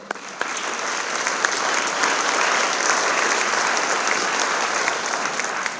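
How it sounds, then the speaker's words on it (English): An audience at a school dedication ceremony applauds in a dense, even roar of clapping, steady and fairly close for nearly six seconds with a few sharper claps standing out. "So I just want to give everyone just a round of applause for your support."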